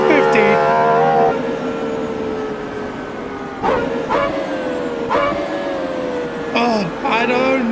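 GMA T50 supercar engine in Assetto Corsa: a high, screaming engine note that rises through the revs, drops sharply at gear changes and climbs again, loud and close.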